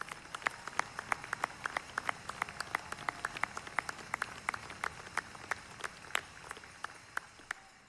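Sparse, distinct handclaps at a university commencement ceremony, individual claps ringing out in a slow, uneven rhythm over a quiet hall background.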